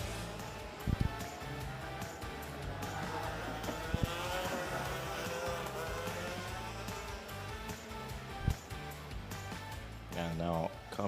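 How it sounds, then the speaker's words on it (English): Racing karts at the APMC 2025 event head into the first corner, a dense buzzing engine drone with rising and falling revs, occasional sharp knocks and a late tyre squeal, under continuous commentary. "And now coming in to the first corner, several karts trying to push the limits, trying to get that wider entry into that first corner."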